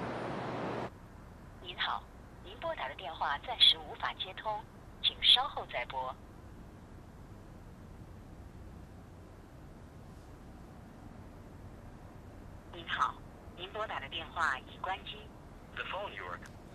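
A telephone call goes unanswered, ringing in two separate bursts of repeated electronic tones with a quiet gap between them, at moderate volume with no talking.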